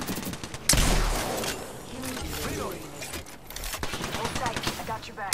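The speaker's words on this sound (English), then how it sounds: "I have contact with hostile. Getting shot at." Rapid automatic gunfire in a shooter video game, with a sharp burst opening into sustained rattling volleys and scattered single shots, loud and close throughout.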